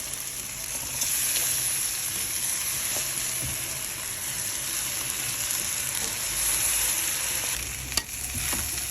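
Rice frying in a pan for stuffed roast chicken, a steady loud sizzle with stirring scrapes throughout and a brief sharp clink near the end, no voices.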